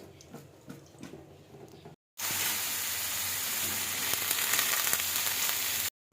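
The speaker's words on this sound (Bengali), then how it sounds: "তো সমস্ত সবজিগুলো ভেজে নিচ্ছি" Mixed vegetables fry in a pan without beans, chilies or tomatoes, first as a quieter crackle with some clatter, then after a brief gap as a loud, steady sizzle that runs for several seconds before cutting off.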